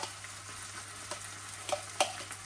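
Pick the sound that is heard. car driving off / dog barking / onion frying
onion frying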